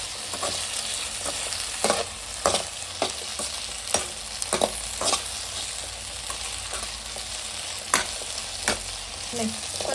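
Okra fries in a pan for chutney, making a steady close hiss with irregular clacks and scrapes as a spatula stirs it over about ten seconds.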